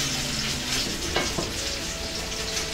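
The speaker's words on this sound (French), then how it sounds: "Les aubergines commencent à bien se faire." Aubergines frying in olive oil in a pan give a close, continuous sizzle with crackling spatters, plus a couple of brief clicks or utensil knocks partway through, and no voice over it.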